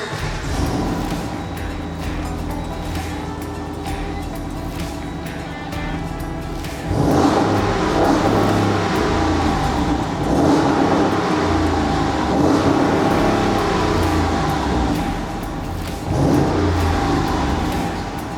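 A Jeep 392 V8 with a Magnaflow cat-back performance exhaust rumbles steadily, then revs up loudly through the throaty exhaust, surging in waves before easing back, close and powerful.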